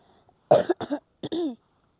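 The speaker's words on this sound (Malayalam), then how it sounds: "ഇപ്പം തന്നെ ഉണ്ട് ചുമ" A person coughs several times in two short bursts, close and fairly loud, with brief pauses between the coughs.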